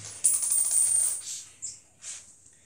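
Korean coins flicked across a table, a bright metallic clink as they strike, followed by two softer rattling taps of coins knocking together and settling, close and clear with no talking.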